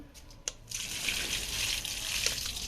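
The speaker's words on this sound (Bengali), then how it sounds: "তো আমি এখন গাছে জল দিচ্ছি" Water poured onto sun-dried garden plants, a steady gushing splash starting after a brief knock and running continuously, close and fairly soft with no talk.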